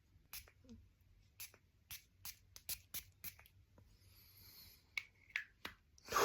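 Quiet, sharp hissing bursts from a bottle of Roja Parfums Turandot perfume, several short sprays in an irregular sequence in a hushed room.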